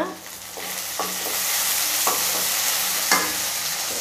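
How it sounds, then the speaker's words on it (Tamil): Curry leaves frying in hot oil in a pan while making a rava breakfast dish, a steady close sizzle with a few sharp crackles and pops standing out, no voices. "இப்போ எண்ணெயிலே நல்லா ஃப்ரை ஆயிட்டு இருக்கு. இந்த டைம்ல கருவேப்பிலை ஆட் பண்ணிக்கலாம்."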